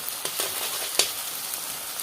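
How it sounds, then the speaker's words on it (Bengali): Onions fry in ghee in a pan, a moderate steady sizzle broken by a few sharp crackles and taps. "দেখুন এর মধ্যে আমি পেঁয়াজ দিয়ে নিয়েছি আর এটাকে হচ্ছে একটু কিছুক্ষণ ভাজবো"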